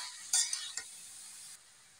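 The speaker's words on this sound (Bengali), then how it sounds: "নেড়ে চেড়ে দিয়েছি" Mixed vegetables with spices stirred in a pan for a prawn dish, a few sharp metal scrapes and clinks of the spoon early on, then a faint soft sizzle that drops lower, no voices.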